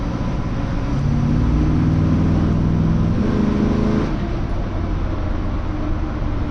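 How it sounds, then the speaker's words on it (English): A 1975 Ford twin-grille pickup truck cruising at about 40 mph, its big torquey engine giving a steady, smooth low drone with a sustained hum that holds, then eases slightly near the end, loud and close, without talk. "Big torquey motor here, real smooth."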